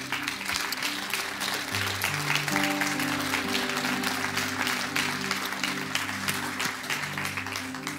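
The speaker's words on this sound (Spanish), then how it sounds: "Dele un aplauso fuerte al Señor." A church congregation claps hard and steadily, dense applause that continues without a break while sustained organ or keyboard chords ring underneath.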